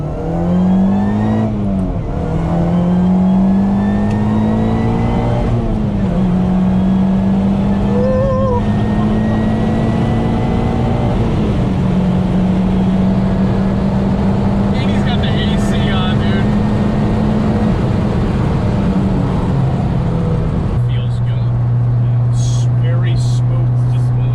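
A 2014 Honda Civic with a supercharged 350-horsepower engine revs loud and close, climbing and holding a high droning pitch, then settling to a steadier tone near the end.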